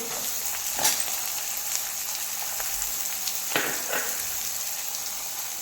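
Capsicum, carrot and cabbage sauté in a hot pan for chicken manchow soup, producing a constant hissing fry with a few sharp spatula clicks and stirring scrapes, close by and with no talk.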